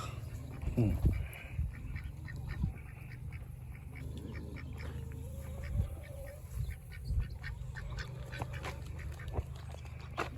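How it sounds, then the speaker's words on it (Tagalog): Ducks quack on and off across a farmyard, some calls close and loud, others softer, over a steady low background hum. "Marami na ang aking duck."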